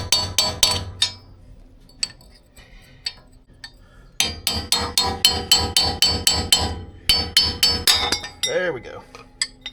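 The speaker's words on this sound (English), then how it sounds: "try to drive a wedge until you can start to see it separate a little bit" A hammer drives a metal wedge into the CV axle joint of a Lexus GX470, sharp ringing metallic strikes in quick rhythmic runs with short pauses, close and loud, with a voice briefly heard near the end.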